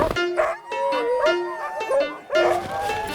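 Retired racing sled dogs, huskies, howl and yip together in a rising and falling chorus, with barks mixed in, fairly close and continuous over a few seconds.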